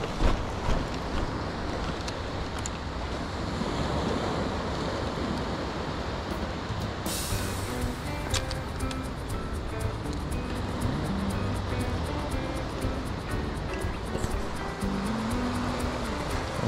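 Waves on a flat, calm sea heard from out on the water, a constant broad wash of soft surf with faint wind that holds steady from start to finish, with no voices.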